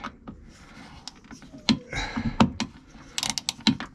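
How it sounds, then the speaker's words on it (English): A spanner works on a nut aboard a boat, producing scattered metallic clicks and ratcheting ticks at uneven intervals, close by and moderately loud, with faint background noise between them. "I managed to get a spanner on it. I've got to hold the spanner in place,"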